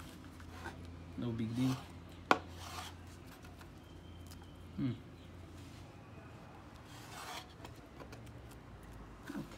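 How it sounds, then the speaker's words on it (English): An ESEE 4 fixed-blade knife slices through leather on a tabletop, making a couple of short rasping draws and a sharp tick. Someone talks quietly between the cuts. "Let's see how it cuts. Leather here, just a couple of slices"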